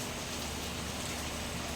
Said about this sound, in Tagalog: Lakas-lakas na ng ulan guys.